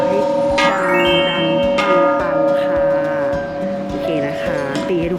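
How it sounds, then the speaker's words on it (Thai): Bells ringing at Naka Cave temple in Bueng Kan, Thailand, a loud sustained ringing tone with overlapping metallic partials and repeated strikes, joined by a low mooing-like drone, for about five seconds without talk. "เขาก็จะมีตัว คองแล้วก็ระฆังตามจุดเลยนะคะ"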